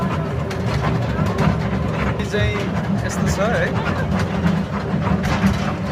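A Lumbini-to-Delhi passenger train rolls on with constant rumbling clatter and scattered squeals, while voices talk throughout over the steady noise.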